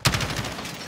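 A short, rapid burst of gunfire in the video game Call of Duty Warzone: loud, close shots with a sharp onset and a ringing tail, heard alone with no talking.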